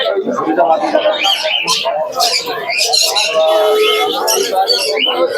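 A busy pigeon market in Krishnanagar where caged pigeons coo and flutter in a steady close chorus, heard beneath people talking throughout.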